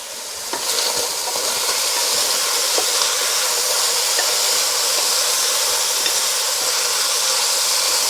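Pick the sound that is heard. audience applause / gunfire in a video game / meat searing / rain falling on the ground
meat searing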